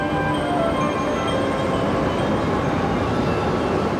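A Rhaetian Railway train pulls out of the station at Klosters in the Swiss Alps, a continuous loud rumble of wheels and carriages with faint high squeals, steady and close throughout.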